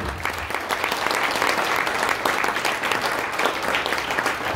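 Wedding guests break into loud, sustained applause, a dense wash of clapping from a roomful of people that holds steady throughout without pause.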